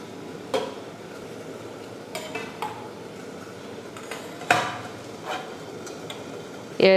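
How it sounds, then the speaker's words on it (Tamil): Metal clinks and clanks as a steamer tray is set onto a pot, a few sharp knocks spread over a steady background hum. "இப்போ இது மேலே இந்த ஸ்டீமர் மேலே ஒரு அடுக்கு இருக்குது பார்த்திங்களா, அதையும் வச்சுக்கிறேன்."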